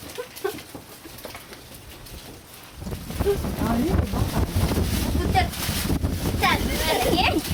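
Wind buffets a microphone outdoors on a summer holiday, a steady roar that strengthens after a few seconds and keeps rushing without letup.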